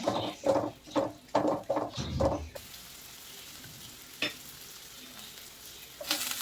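Shallots, garlic and crushed chili fry in oil as a spoon stirs them, making choppy bursts of sizzling up close. The sound then settles into a quieter steady hiss with an occasional clink.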